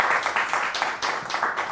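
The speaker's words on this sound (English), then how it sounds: "You can still clap for him." Audience clapping at an energy transition forum in Ghana as a petroleum engineering society director is announced: a brief, dense patter of many hands, steady and moderately loud, with no speech over it.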